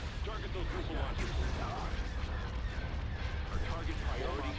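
Starship laser cannons fire continuously in a Star Wars Thrawn's Revenge space battle, a dense, loud rumbling barrage of blasts and booms with voices speaking beneath the din throughout.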